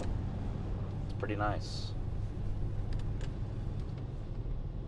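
A 2023 Lamborghini Urus S cruising in a calm, tame mode, its engine a low, steady rumble with road noise, heard from inside the cabin while a person speaks briefly over it.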